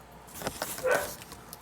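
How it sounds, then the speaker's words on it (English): A dog barks a few times in short, sharp yips at a moderate distance, with a brief whine in between; fairly quiet overall. "You hear Emma barking."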